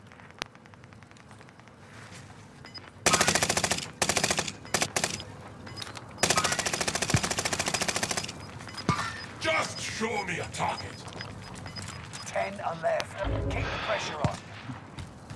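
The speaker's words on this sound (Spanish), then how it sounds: "Pero alguien le está disparando, ¿no?" Bursts of automatic gunfire in Call of Duty: Modern Warfare, loud dense volleys in two long stretches with scattered shots between, under Spanish-speaking players' chatter.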